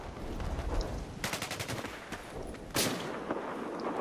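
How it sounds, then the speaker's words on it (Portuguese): Bursts of rapid suppressive gunfire in the video game Battlefield 4 crack out in short volleys over a noisy background, with a couple of louder shots standing out. "Ele tá dando tiro em mim aqui, ele tá fazendo supressão."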